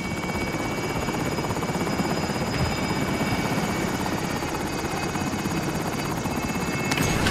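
Helicopter rotor and engine in a video game, a steady loud chopping whir that holds close and constant throughout, with no talking.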